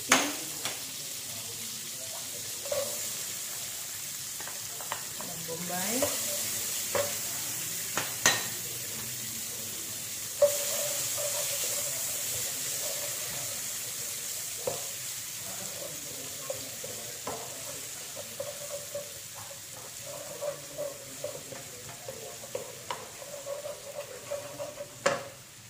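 Onions sautéing in a pan for carbonara sizzle in a low, steady hiss with occasional stirring scrapes and clicks, running continuously throughout without talk.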